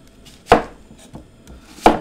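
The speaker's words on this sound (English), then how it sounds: "and then we're gonna cut the onion." Knife chopping an onion on a cutting board, three distinct sharp chops spaced unevenly, close and clear with no talking.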